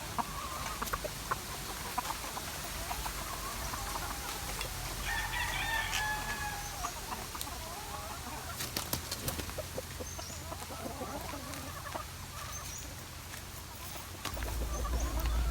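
Fighting chickens, broodcocks penned with brood hens, crowing and clucking repeatedly in a farmyard, with scattered calls near and farther off over a constant background hiss.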